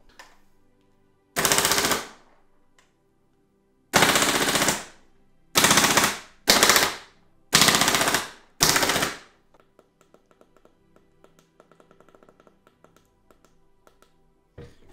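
A Wolverine MTW Forged Tactical rifle fires in five loud, close bursts of rapid shots, each lasting under a second, spaced by short pauses, then quiet follows with faint light clicks.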